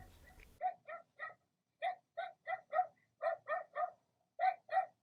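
Several dogs barking in short clipped bursts, mostly in quick groups of two or three, with brief pauses between groups and a burst of noise at the very start.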